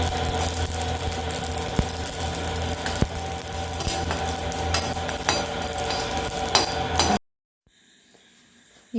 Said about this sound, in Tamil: இப்போ நல்லா படபடன்னு வெடிக்கும், சத்தம் கேட்குது பாருங்கள்.